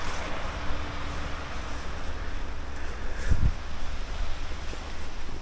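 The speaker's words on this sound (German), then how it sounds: "Jetzt ist es wieder windig und kalt." Cold wind blows outdoors near a road, a steady broadband rush buffeting the microphone with a brief low thump partway through.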